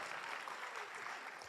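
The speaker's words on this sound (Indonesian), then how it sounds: "Tepuk tangan buat Padang." Applause from a seminar audience, a dense, even patter of many hands clapping together, quite faint and distant, lasting a short burst.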